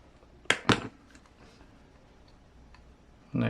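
Two sharp clicks from the spur and pinion gear mesh in an MST CFX-WS DC1 RC car transmission, close and crisp, followed after a quiet pause by a louder burst of clicking at the end.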